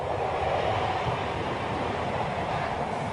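A passing train rumbles on the rails in a steady, loud, broadband roar that stays even throughout, with no voices.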